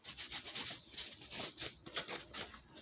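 Buffing wax on a paper clay Christmas ornament made from a mould: soft, close rubbing strokes in an uneven rhythm of short pulses, quiet with no voice.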